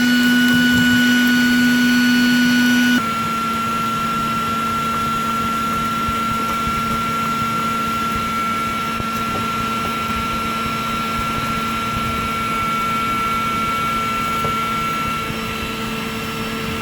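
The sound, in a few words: vacuum cleaner sucking dust out of an air conditioner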